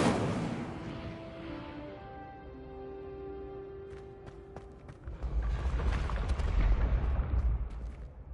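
Incendio fire spell cast in Hogwarts Legacy, a tonal magical whoosh fading over several seconds, then a louder roaring, crackling burst of flame with sharp snaps near the end.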